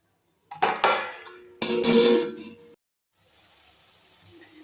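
A lid goes onto a cooking pot in a home kitchen with two quick metallic clanks, the second ringing briefly, then a soft background hiss.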